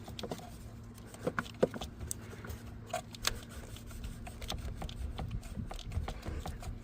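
A ratchet tightens the positive cable terminal on a Chrysler battery with quiet, close clicks in short uneven bursts over faint background noise.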